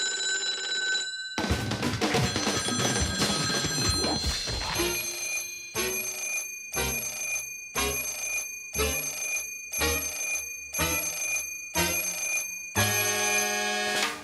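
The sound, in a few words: telephone ringing in the Sam & Max video game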